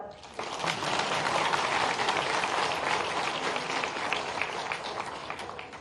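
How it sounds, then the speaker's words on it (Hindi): Applause rises from the audience at a university convocation ceremony at Dr. B.R. Ambedkar University in Mhow. It swells in quickly after a brief quieter start and holds as a broad, even, hall-filling wash that tapers gently toward the end. "ताली तो बजाओ"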